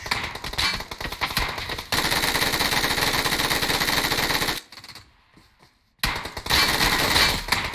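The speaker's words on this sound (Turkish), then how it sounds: "O silah sesleri nereden gelmişti bu arada?" Dense automatic gunfire in PUBG Mobile rattles in loud, rapid bursts, drops away into a brief near-silence, then erupts again with sustained firing.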